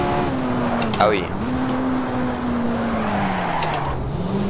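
Lotus Type 49 race car in a racing video game, its engine note dropping sharply under braking with tire squeal and skidding, the engine then steadying and dipping again while someone talks over it.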